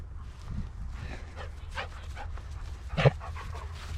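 Dogs at night, one named Smoke, give a brief bark and soft whimpers near the microphone, with quiet panting and low rumble between sounds.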